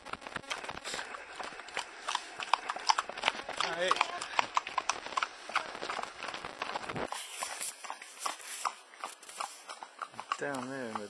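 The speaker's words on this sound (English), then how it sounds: "Some horses." Horses walking along a steep moorland path, hooves clip-clopping in an uneven close rhythm, with a person briefly speaking and breathing over them.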